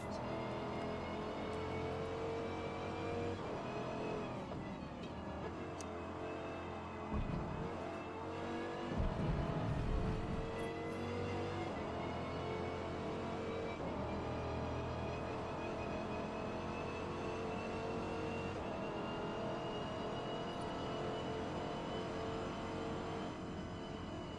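Race car engine from the Forza video game during a GT lap, a steady continuous drone with a brief rise in revs partway through, heard alone without talk.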